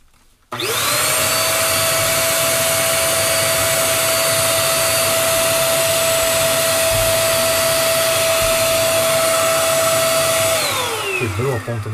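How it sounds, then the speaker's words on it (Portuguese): A vacuum cleaner with a broken nozzle tip switches on, spins up to a loud steady whine that holds for about ten seconds, then begins winding down at the end. "Quebrou a ponta desse aspirador aqui, ó."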